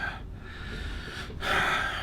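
A voice imitates heavy, rasping breathing: a sharp gasping inhale followed by a louder, snorting exhale, close and fairly quiet, with no other talk.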